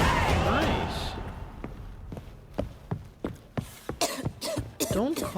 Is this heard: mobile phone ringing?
no